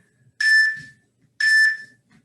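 Workout interval timer at max volume giving two long, evenly spaced electronic beeps about a second apart, loud and clear over near silence.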